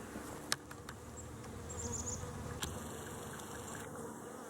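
A large swarm of bees outdoors, a steady buzzing hum with a couple of brief knocks and a faint bird call, no voices.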